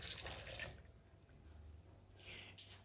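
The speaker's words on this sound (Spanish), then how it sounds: "Por último, ponemos el vaso de agua." A glass of water poured into a blender jar while making a beet and lemon juice, a brief splashing pour at the start, then quieter trickling, close and faint.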